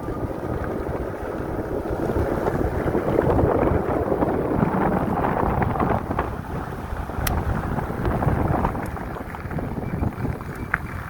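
Steady wind rushing past the microphone while riding a Swagtron EB-8 electric fat tire bike in dry heat over 110 degrees, a continuous loud buffeting whoosh with no pauses.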